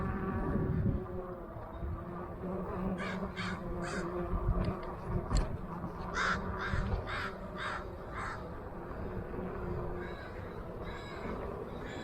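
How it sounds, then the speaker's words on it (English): Several crows caw repeatedly in the distance, harsh calls in short bursts over a buzzing hum of insects. "You hear all those crows?"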